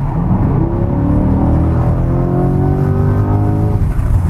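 A Corvette C8 Stingray's 6.2-litre V8 revs up loudly and close, its deep growl climbing steadily in pitch before dropping off.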